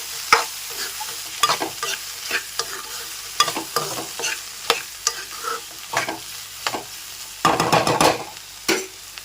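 A curry simmering in a pan is stirred with repeated scraping strokes at an uneven rhythm, close and fairly loud over a low bubbling hiss, with a denser burst of stirring near the end; no one speaks.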